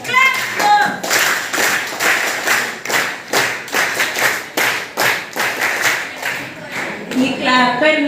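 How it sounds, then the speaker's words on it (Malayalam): School audience clapping at a school arts festival, with rhythmic, fairly loud, synchronized group claps in a steady beat, with voices briefly at the start and end. "അവർക്കൊരു കൈയടി കൊടുത്തേ"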